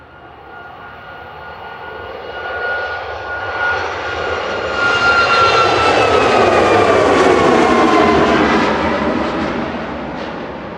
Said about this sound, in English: Ryanair 7542 there, heading off to Barcelona, 737 MAX 8 200